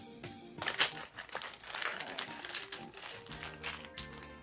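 Ziploc plastic bag crinkling as it is handled, a close run of crisp irregular crackles and rustles in quick bursts for several seconds, no talking.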